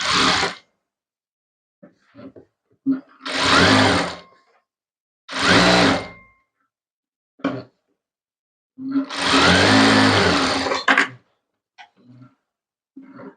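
A sewing machine stitches lining cloth together with a saree fabric in loud, close bursts of rapid mechanical whirring, three long runs and a short one, separated by silences and small clicks of handling the fabric.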